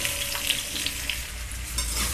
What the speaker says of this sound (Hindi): अब इसमें हम ऐसे बड़े टुकड़े में आलू कटा हुआ डालकर फ्राई करेंगे।